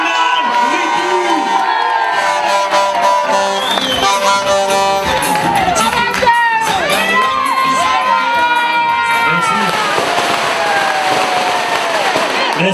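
A large outdoor crowd at a Flacq political rally cheers, whoops and shouts continuously and loudly, with many overlapping voices and noisemakers building into a dense roar.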